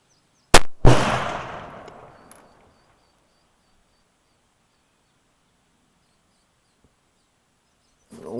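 A 7mm Rem Mag rifle fires a single 150 grain Core-Lokt round on an outdoor range: a sharp, loud crack right up close, followed by a long rolling echo that fades over a couple of seconds into near silence.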